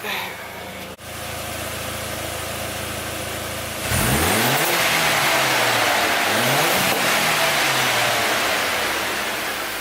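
An Audi engine with its exhaust refitted idles with a low rumble, then is revved hard, rising in repeated climbing sweeps and falling back, loud and close, with voices faintly around it.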